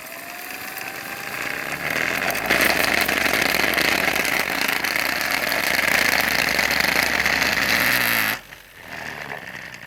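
EcoBot Spaceman vibrating vacuum cleaner with its motor running, a steady close buzzing whir with a rough vibrating edge that cuts off abruptly near the end, leaving a quieter hum.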